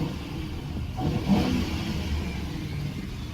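A Ford car engine revs in a steady mid-pitched drone that swells slightly partway through, heard alone at moderate volume.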